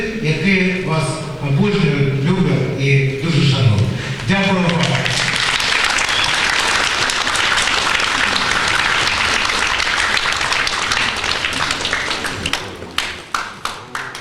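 A voice speaks first, then the crowd at the opening of a painting exhibition marking Viktor Kovtun's 40-year creative jubilee breaks into loud, sustained applause that fills the room before tapering into a few scattered claps.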